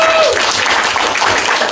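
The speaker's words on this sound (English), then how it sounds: "Another round of applause for Nels" Audience applause at a live debate event, a dense wash of clapping from a sizable crowd that stays loud and even for a couple of seconds.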